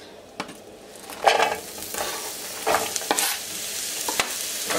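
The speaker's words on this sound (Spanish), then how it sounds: "cuando ya está caliente voy a agregar la cebolla" Onion sautés in hot oil in a pan for chicken breasts with vegetables in orange sauce, giving a close, bright sizzle with a few sharp spatula taps and scrapes and no talking.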